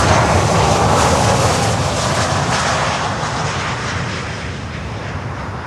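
A Lufthansa airliner's jet engines roar loudly and steadily at Miami airport, a broad, dense rumble that slowly fades as the aircraft moves away, with no talking.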